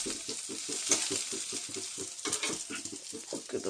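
Onions frying in hot oil with cumin seeds, a steady sizzle broken by rhythmic scraping strokes of a spoon against the pan, close and fairly loud.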